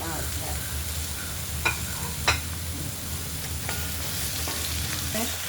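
Onions and tomato frying in a pan, a steady close sizzle with a few sharp spatula scrapes and crackles, no speech.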